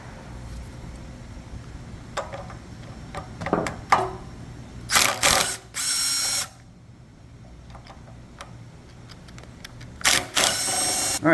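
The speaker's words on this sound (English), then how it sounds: "we're going to start removing these manifold screws and take this old manifold off" A wrench loosens the manifold screws on a pressure washer's AAA pump, heard as a few short, loud whirring bursts close up against a quiet room, with softer clicks in between.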